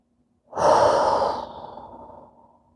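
A single long, audible exhale during a yoga forward fold, close to the microphone, starting strongly and trailing off softly, with no talking.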